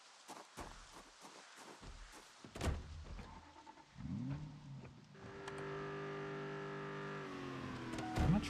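A 460-horsepower car in the survival video game Project Zomboid clunks through a few mechanical knocks, then its engine cranks and settles into a steady, droning idle that holds to the end.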